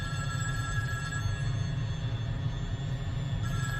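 A telephone rings continuously in a movie scene, a steady electronic tone held over a low hum without pause.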